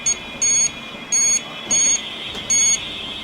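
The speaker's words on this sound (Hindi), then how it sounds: "मुझे बीप चाहिए, फुल बीप" Multimeter continuity beep while testing a cracked iPhone board during smartphone repair, four loud steady electronic beeps in an even on-off rhythm with a constant high whine underneath, no talk.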